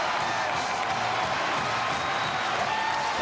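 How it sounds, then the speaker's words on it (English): Dense roar of a basketball arena crowd cheering during an Iowa State upset of Kansas, a steady, loud wall of voices filling the whole moment with no letup. "Look at this crowd."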